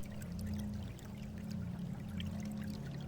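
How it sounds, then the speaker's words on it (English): Steady pouring, streaming water in the video game Mystery of the Druids, a constant low rushing flow at moderate level, alone without any voices. "And that is water that we are hearing."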